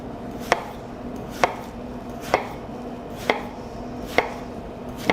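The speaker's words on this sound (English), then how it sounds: "Cut this in half lengthwise and into slices." Knife cutting through watermelon being halved lengthwise and sliced, five crisp chopping strokes at a steady rhythm, close and clear with no talking.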